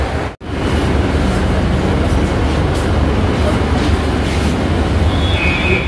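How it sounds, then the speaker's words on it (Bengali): A Kolkata metro train from Belgachhia toward Esplanade pulls into the station, a loud continuous rumble and rolling roar filling the platform, with a brief dropout near the start and faint higher squeals later. "মেট্রো চলে এসছে"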